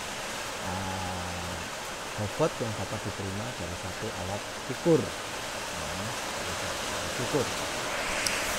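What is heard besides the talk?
rain falling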